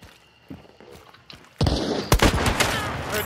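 A loud gunshot cracks in Hunt: Showdown, sharply cutting in after quiet footsteps and faint sounds, followed by a second report and lingering echo.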